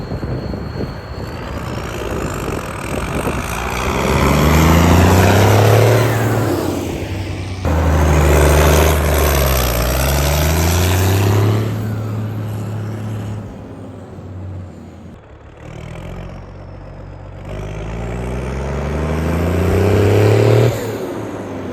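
A Case tractor's heavy engine rumbles past several times, rising and falling in pitch as it approaches and recedes, loud and fairly close throughout.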